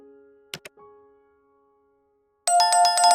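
A notification bell ding sound effect that rings out as a bright, sustained chime after a quieter earlier tone and a few short clicks.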